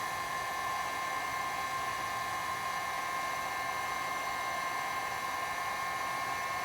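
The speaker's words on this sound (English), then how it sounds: "Just going to heat up this corner. Heat gun's pretty hot, so it doesn't take long." A heat gun blows hot air onto the corner of plywood edge banding with a steady, even whooshing roar that stays constant and close throughout, with no talking.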